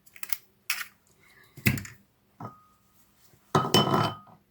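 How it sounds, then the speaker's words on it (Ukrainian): Several sharp cracks and taps on a hard rim, then a wetter crunch and plop as an egg breaks into a bowl of farmer's cheese, close by with pauses between. "вбиваю одне яйце"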